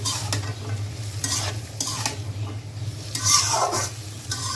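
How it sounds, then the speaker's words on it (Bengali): Shrimp with vegetable stalks stir-fried in a pan: a continuous sizzle under repeated scraping strokes of a spatula, fairly close and steady throughout. "এটার সাথে ভালো করে কষাই নেই"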